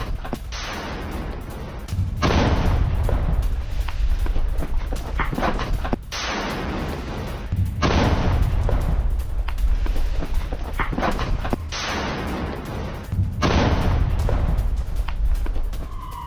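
Heavy explosions from an IDF strike on Hamas tunnels in Gaza boom repeatedly, each deep blast rolling on into a long rumble, with four or five strong booms spaced a few seconds apart.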